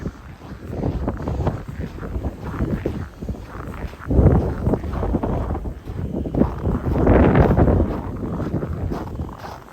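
Cold winter wind buffeting the microphone on a Christmas Eve walk around Wascana Lake in Regina, a loud continuous roar with gusty surges and faint footsteps underneath.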